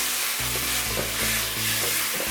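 Tomatoes added to golden brown onions frying in a pan, giving a loud, dense, continuous sizzle up close, with a few soft knocks of stirring.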